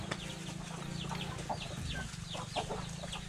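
Hens clucking inside a small homemade coop where Thai village chickens are raised part-penned and part free-range, with soft scattered calls over a steady low background hum.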